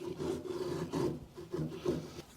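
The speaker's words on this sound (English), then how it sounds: "Here I sand it a bit" A wooden bedside table being hand-sanded: close, rasping strokes in an uneven back-and-forth rhythm, about five or six rubs with short pauses between.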